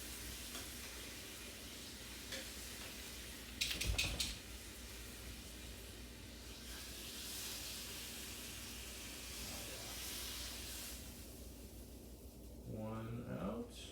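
Skirt steak sears in a hot pan with a steady, fairly soft hiss and sizzle, broken by a brief clunk partway through.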